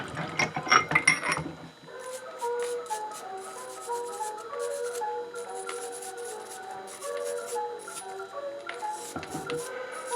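A wooden hand-crank coffee grinder turns its burrs with a dry, ratcheting mechanical grinding, steady and close, after a louder rustling burst at the start.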